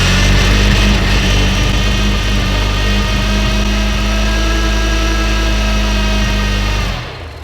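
Engine running after a new pump was fitted, a loud steady close-up idle with a rough rhythmic pulse that cuts off abruptly near the end.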